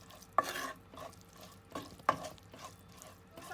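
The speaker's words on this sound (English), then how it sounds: "our chili paste, and lastly all of the spices. And we're just going to mix that." Chili paste and spices being stirred together for a spicy Moroccan seafood filling, off the heat, giving a few distinct close scraping clinks of a spoon against the pan amid soft mixing rustles, with no talking.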